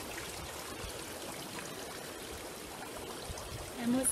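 Sulphur spring water bubbles and trickles into a small pool at the Cold Soufriere volcanic site in Dominica, a soft, steady watery burble heard at a modest distance, with a slight swell near the end.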